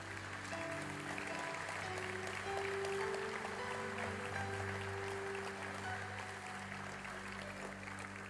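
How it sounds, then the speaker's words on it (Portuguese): A church congregation applauds for Jesus during a worship service, a steady, dense wash of clapping lasting throughout, with a sustained musical drone from an instrument underneath. "dê um aplauso a Jesus"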